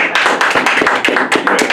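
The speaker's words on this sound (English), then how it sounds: "Let's give him a round of applause." Brief burst of clapping, a quick run of sharp claps from a small group, close and lively, with no talking.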